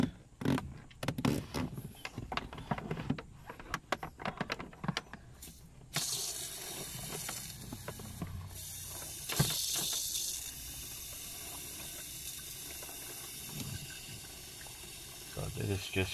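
Water sprayed through a makeshift sprayer to rinse a car's AC evaporator behind the dashboard, a steady hiss that starts after several seconds of clattering handling noise and runs on without pause.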